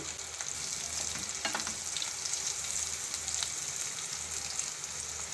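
Capsicum frying in hot oil in a pan, a steady close sizzle running the whole time with a few soft stirring scrapes and no voices.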